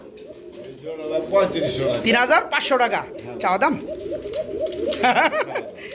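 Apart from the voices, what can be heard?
range pigeons cooing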